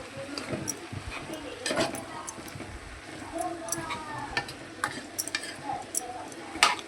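Dondakaya (ivy gourd) curry being stirred in a pan after salt goes in, with a soft continuous sizzle and intermittent light spoon scrapes and taps, close by, while a voice speaks over it.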